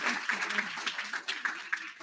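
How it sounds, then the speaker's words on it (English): Audience applause during a faculty development programme session on AI and machine learning for healthcare engineering: brief scattered clapping with voices mixed in. "Big round of applause."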